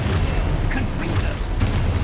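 A Confringo blasting spell bursts in Hogwarts Legacy combat, a dense booming roar lasting the whole moment with a couple of sharper crackles inside it, loud and close.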